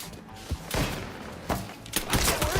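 Gunfire in the video game Mafia III: several sharp, loud shots in quick bursts spaced irregularly over a couple of seconds, with a thumping low end and no talk over them.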